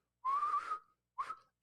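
A radio host whistles two short notes, a longer tone and then a brief clipped one, close and clear in a quiet studio.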